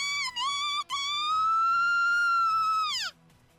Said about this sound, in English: Michiru's piteous, heartrending screams fall on deaf ears.